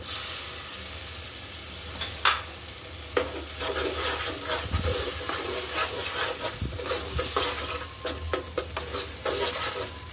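Shrimp and taro paste with green chilli paste and tomato paste stir-fry in mustard oil, giving a continuous close sizzle broken by frequent sharp scrapes and knocks of a spatula stirring the pan.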